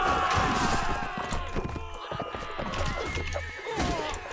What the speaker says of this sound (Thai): ฝั่งตรงข้ามขี่ม้ามาแล้วครับ ตอนนี้ขี่ม้ามาแล้ว